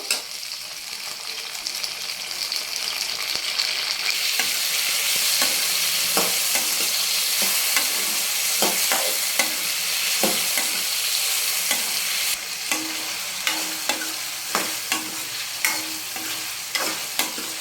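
Green chillies frying in a pan for peanut chutney, a loud continuous sizzle with repeated scraping stir strokes and clinks of a spoon, no voice.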